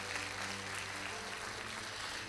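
A church congregation applauds as an offering of palms during a Spanish-language sermon, a steady, fairly faint wash of clapping throughout.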